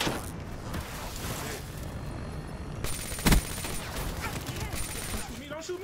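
Gunfire in Call of Duty: Black Ops 3 during an online kill-confirmed match, a dense stream of game sound with shots and one sharp loud burst near the middle.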